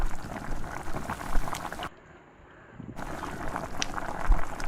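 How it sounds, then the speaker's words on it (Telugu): Poori dough deep-frying and puffing in hot oil makes a dense bubbling crackle up close, dropping almost to silence for about a second midway before the busy frying returns, no talk. "మీడియం సైజులో పూరీని పట్టుకొని దీన్ని ఆయిల్లో డిప్ చేసుకోవాలి. సో మనం చేసిన పూరి పొంగుతుంది చూసారా."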